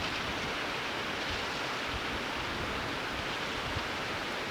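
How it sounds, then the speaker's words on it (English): A waterfall in the High Sierra mountains roars as a steady, even rush of falling water, continuous and fairly close, with no voices or other sounds breaking through. "You can hear the waterfall."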